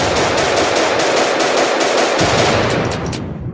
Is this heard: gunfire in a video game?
yes